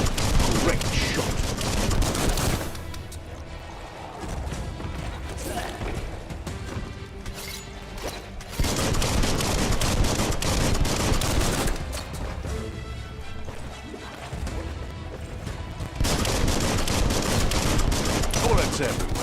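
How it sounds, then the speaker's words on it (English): Gunfire from the Biomutant game: dense, rapid bursts of shots and crashing impacts come in loud waves, separated by short calmer stretches of rumbling game noise, with a voice speaking over parts of the action. "Bullets everywhere."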